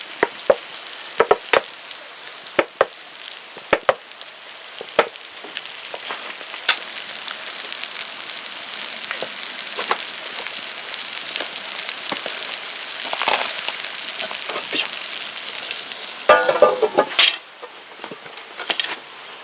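Trout blood line frying in olive oil in a pan used for meunière, a close, steady sizzle marked by sharp clicks and scrapes of a spatula, with a burst of louder crackling near the end.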